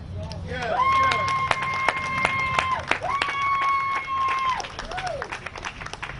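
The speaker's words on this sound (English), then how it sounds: "let's give a round of applause for Miss Owens" Crowd applause and cheering at a seniors' rally, with clapping under a long whistle-like tone and voices in the crowd.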